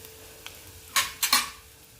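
A ginger curry mixture with chili, curry leaves and ground paste stirred in a pan: a few sharp metal spoon scrapes and clanks against the pan over a faint sizzle.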